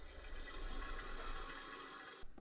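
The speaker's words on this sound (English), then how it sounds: "Next, give it a flush and let's check out the bottom of the toilet." Toilet flushing after a new wax ring was fitted, a steady rushing of water that runs close and loud for about two seconds before cutting off abruptly.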